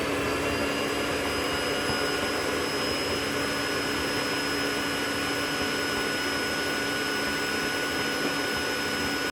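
A Tineco iFloor3 wet-dry floor vacuum runs steadily throughout, a loud, close, unbroken whine with a broad motor roar and no pauses or talk.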